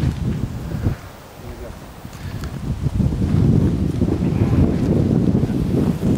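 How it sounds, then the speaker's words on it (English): Heavy rumbling wind buffets the microphone nonstop on a golf course, swelling louder in the second half, with a low roar that drowns out everything else. "I'm straight in the wind here."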